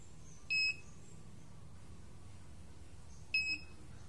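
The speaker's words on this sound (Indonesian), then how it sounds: "Dan pada tongkat akan mendeteksi benda pada bagian bawah, yang mana jika di bawah ada penghalang maka akan berbunyi." A smart cane's obstacle sensor gives two short, high electronic beeps, a few seconds apart, faint over a quiet room hum.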